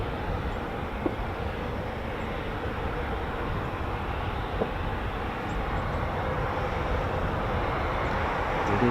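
Steady roar of US Air Force jet engines at an RAF airfield, carrying on without a break at constant loudness for the whole stretch, with faint clicks near the start.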